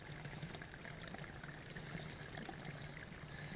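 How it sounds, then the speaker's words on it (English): Fresh spring water trickles and pours out from inside a rock, a constant close splashing babble with no pauses. "Nice little spring here, coming from down inside the rock there. I don't know if you can see it, but you can certainly hear it."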